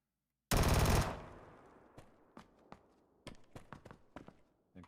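Gunfire in the video game Fallout 4: a loud, dense burst of automatic fire up front, then a string of sharper single and double shots with echoing tails, trailing off unevenly.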